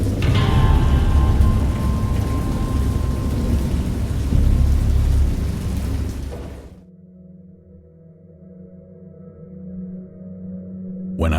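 Heavy rain pours with rumbling thunder, then the downpour abruptly drops away to a quieter, low murmur before building again.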